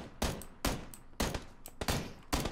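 Gunfire in the battle royale game PUBG: five sharp, evenly spaced shots over about two and a half seconds, moderately distant and alone without voices.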